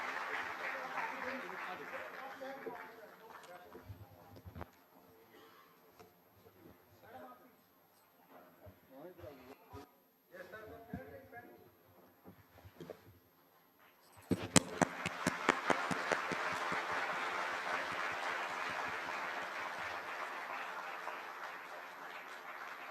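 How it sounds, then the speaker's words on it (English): Audience applause for a survey team from Shimla at a national statistics anniversary celebration, starting as a dense, sustained clapping wash that follows earlier speech and continues steadily to the end. "Huge round of applause for them, please."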